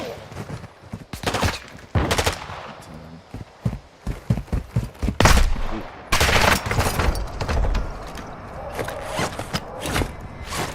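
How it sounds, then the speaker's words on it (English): Rapid bursts of gunfire from a Call of Duty Warzone II match crackle loudly and repeatedly, with clustered automatic volleys and single shots spread across the whole stretch amid dense battlefield noise. "Taking fire!"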